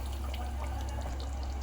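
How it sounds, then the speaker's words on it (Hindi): Water poured into a pan of fried seafood masala for a Konkani gravy, a faint steady rushing pour under low background hum, brief and continuous. "अब इसमें पानी डाल रही हूँ।"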